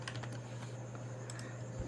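A computer keyboard is typed on in a quiet room: a handful of soft, scattered key presses, faint and close, with no voices.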